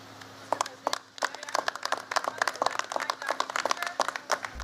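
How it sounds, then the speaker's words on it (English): A light, scattered golf clap from a small audience at a live watch party, a few sparse hand claps spread unevenly across the moment, fairly close and alone without talk. "Just a light little golf clap."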